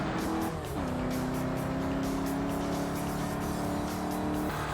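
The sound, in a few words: diesel rally car engine in RalliSport Challenge 2 video game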